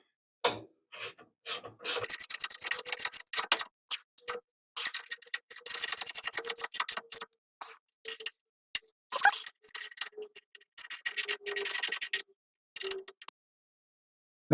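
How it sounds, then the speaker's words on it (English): Half-inch wrench and socket tightening bolts on suspension arm brackets of a Bugeye Sprite, heard as quick bursts of ratcheting clicks in irregular runs with short pauses, close and fairly quiet, no talking. "let's give a wrench to tighten those up. So just a 1/2 inch"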